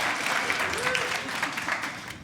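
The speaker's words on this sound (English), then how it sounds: "Round of applause." A comedy club audience applauds in a steady, dense wash of claps that holds, then eases slightly toward the end, with a faint voice in the crowd.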